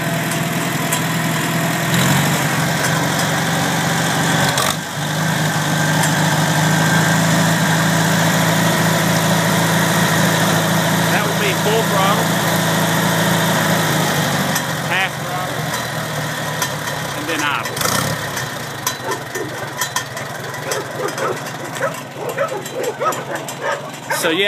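A 1964 Farmall 140 tractor engine idles with a steady low rumble, while a dog barks intermittently nearby and the engine note shifts partway through.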